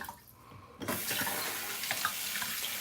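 Running water from a sink tap starting abruptly and continuing as a steady close splashing gush, warm water used while shaving with a Lord L5 double-edge safety razor.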